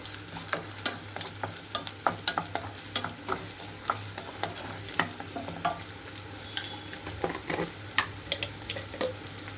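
Crushed garlic cloves frying with softened onions in a pan, a steady close sizzle broken by frequent scraping stirs and soft spoon knocks, with no voices.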